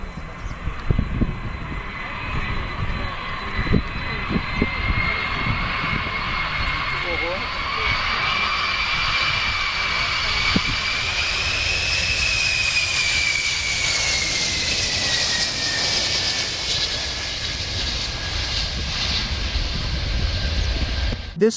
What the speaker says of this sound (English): This plane is performing very low pass to the ground.